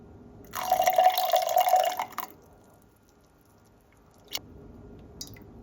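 Warm non-chlorinated water, about 50 grams, poured into a sourdough starter in a kitchen; a steady trickling pour lasting under two seconds, close and clear, followed by a few faint drips and clinks.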